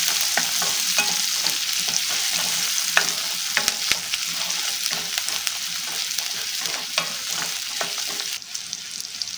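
Onion sautéing in a hot pan with a pinch of asafoetida, a steady close sizzle and frying hiss with occasional stirring scrapes and clicks throughout, no voices.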